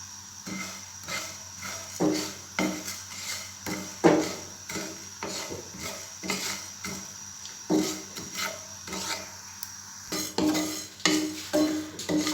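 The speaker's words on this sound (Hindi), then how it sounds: "अब हम इसमें धनिया और ज़ीरा डालकर इसे थोड़ा" Coriander seeds and cumin dry-roasting in a heated pan, stirred with a spatula that scrapes and taps in a steady, repeated rhythm, close and fairly quiet, with no voices.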